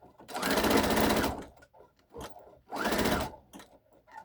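A sewing machine stitches a mitered corner on a lacy pinafore top, running in two loud, steady bursts separated by a short pause and a few faint handling clicks.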